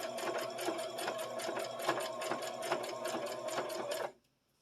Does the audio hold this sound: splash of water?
no